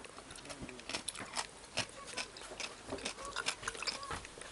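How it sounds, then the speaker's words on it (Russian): Homemade three-day fermented cabbage (sauerkraut) crunching up close: a run of irregular, crisp, bright crunches with small chewing-like clicks between them and no talk. "Слышно, как хрустит?"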